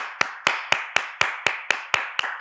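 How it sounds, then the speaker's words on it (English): Audience applause as about ten sharp, evenly spaced claps at a brisk, steady beat, close and fairly loud, with no voices. "We applaud you."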